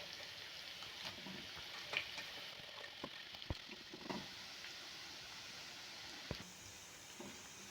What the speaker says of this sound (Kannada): ಇವನ್ನ ವಾಪಸ್ ಇನ್ನೊಮ್ಮೆ ಫ್ರೈ ಮಾಡ್ಕೊತೀನಿ.